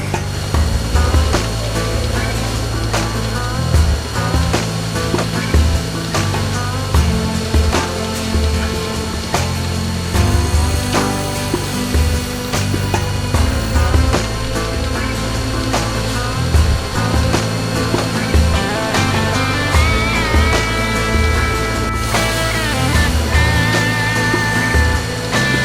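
Knives sharpened on power grinding equipment in a knife shop, a loud continuous whirring grind with rising and falling contact scrapes, steady throughout with no talking.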